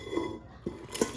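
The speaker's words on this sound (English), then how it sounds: "Now we're just gonna dump this stuff in there because I don't need the pasta water." Cooked penne pasta tipped back into a cooking pot in a home kitchen, a few soft clattering knocks and a brief scrape of metal, fairly faint and close, no talking.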